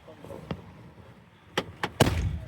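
The driver door of a 2011 Ford F150 with about 130,000 miles slams shut in a loud, close, heavy thud near the end, preceded by a few softer knocks and clicks against a quiet background.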